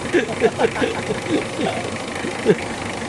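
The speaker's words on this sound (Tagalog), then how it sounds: "O, tingnan mo yung makina niya ngayon, di ba? Tumining. Pino." A Mitsubishi Adventure engine idles in a workshop, a low steady hum running under close, continuous talk from people nearby.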